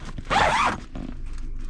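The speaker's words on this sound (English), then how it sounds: "I'm gonna go ahead and zip it up." A DoorDash catering delivery bag is zipped shut in one quick, loud, close pull lasting under half a second, followed by soft handling noise.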